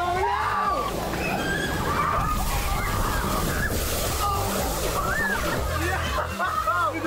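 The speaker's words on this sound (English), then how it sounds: "you see that bucket up there? All the water is gonna release, and we gotta get hit by it" A giant bucket at a water park dumps a heavy load of water onto people below, making a loud, steady, rushing splash that lasts throughout, with shrieks and shouts from the crowd mixed in.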